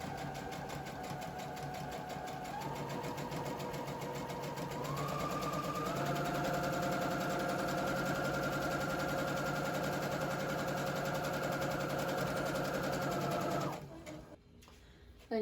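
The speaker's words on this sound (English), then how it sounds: "you just fold it in half one way, sew down the line," A sewing machine runs continuously, stitching a seam on a Halloween costume, a close, steady motor hum with a rapid needle chatter that speeds up in steps before stopping abruptly near the end.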